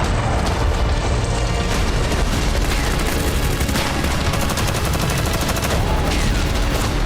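A dense, continuous naval barrage of heavy gunfire and booms, as the battleship Bismarck fires on HMS Hood, loud and relentless, with no pauses between the blasts.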